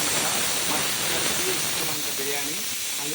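A pressure cooker cooking chicken biryani lets off a loud, continuous hiss of escaping steam that fills the whole short stretch, close and unbroken.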